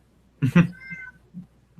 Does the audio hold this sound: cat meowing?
yes